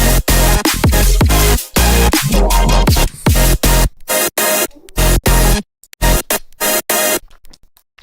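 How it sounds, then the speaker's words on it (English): A synth bass sound with heavily boosted white noise plays in choppy bursts, loud and harsh at first, then broken into stuttering gated fragments separated by abrupt silences. "Yeah, this white noise is really boosted."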